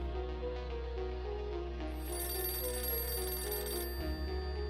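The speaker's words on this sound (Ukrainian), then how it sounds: "У будинку місцевого пастора Джона Дугласа Вайта пролунав телефонний дзвінок." A telephone rings in the home of a local pastor, its steady electronic bell tones sounding fairly loud and continuous over a low background hum, with no voices.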